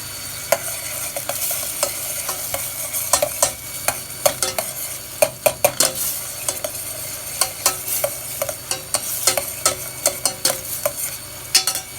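Butter melts and foams in a pan for a macaroni cheese sauce, giving a steady soft sizzle dotted with frequent sharp crackles and pops. No voices are heard.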